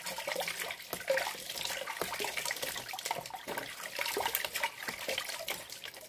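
Water running steadily from a tap as a face is rinsed, with continuous splashing and spatter throughout, close and fairly loud.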